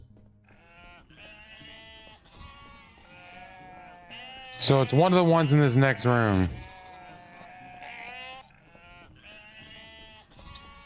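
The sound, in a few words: sheep bleating in the video game UnMetal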